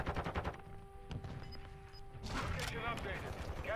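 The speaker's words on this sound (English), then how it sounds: "I keep getting shot from 3-4 angles, man" Gunfire in a ranked multiplayer shooter match, dense bursts of rapid shots crackling under ongoing talk, growing louder and busier toward the end.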